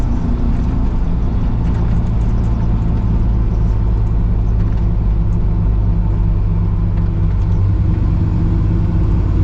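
A Kaiser Jeep M715 military truck driving on a paved road, its engine a loud, steady low rumble with constant road and wind noise throughout, no talking.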